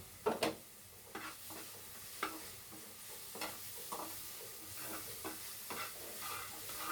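Onions fry with cooked spinach in a pan, stirred in repeated scraping strokes against the metal over a soft, faint sizzle, with the strokes spaced roughly every half second to second and no talking.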